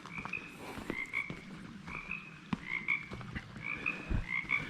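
Frogs croaking in a small forest pond on the Kitsap Peninsula, Washington, a steady run of paired, rhythmic croaks, fairly close and clear, with no talk.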